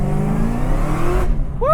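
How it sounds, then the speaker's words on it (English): Camaro ZL1 with roughly 690 rear-wheel horsepower pulling hard in second gear, a loud close engine roar rising steadily, then cutting off sharply and ending in a high tire squeal. "we're gonna do a second gear pull here"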